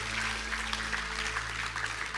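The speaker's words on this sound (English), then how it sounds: "Why don't you give them a round of applause on Christmas Day?" A church congregation on Christmas Day applauds the worship band, giving a steady wash of clapping with a low hum underneath.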